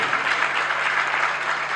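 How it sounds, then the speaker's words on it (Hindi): A live audience claps loudly and steadily at a spiritual talk, a dense wash of hands sustained without pause for a couple of seconds, with no voices over it. "ताली जोर से बजनी चाहिए उनके लिए, और जोर से बजनी चाहिए।"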